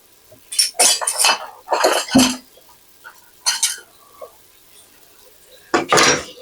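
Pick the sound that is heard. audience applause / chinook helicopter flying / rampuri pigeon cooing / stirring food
stirring food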